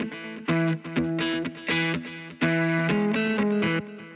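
Electric guitar played through a delay effect with raised feedback, a distorted chord riff in bursts with repeats trailing between strums, loud and close with no talking.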